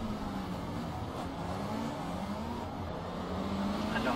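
A race car engine in the Project Cars racing game on the Monaco street circuit, a steady droning hum with shifting pitch that holds loud and continuous throughout, with no talking.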